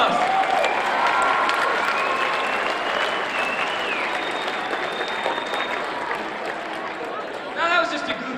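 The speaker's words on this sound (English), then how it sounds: "Give them another round of applause." Sustained audience applause with some cheering fills most of the stretch at a youth success-strategy event, dense and steady, thinning slightly toward the end, with voices talking over it.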